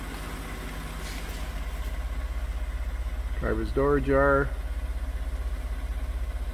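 A 2012 Ford F-150 with the 3.5 engine idles with a steady low hum, while a brief voice speaks partway through.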